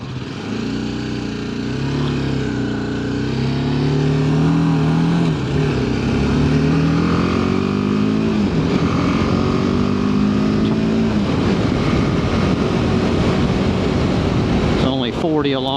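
A small motorcycle cruising at about 40 in 4th gear on a town road, with a steady engine drone whose pitch rises and falls gently, plus wind rush and a brief louder burst near the end.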